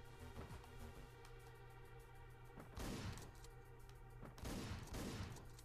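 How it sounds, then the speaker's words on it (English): Assault rifle fire in the top-down shooter Hotline Miami comes as bursts of rapid shots over steady game music, growing louder in two heavy volleys near three and five seconds. "The assault rifle instead."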